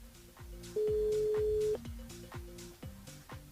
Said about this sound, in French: On appelle Laurine.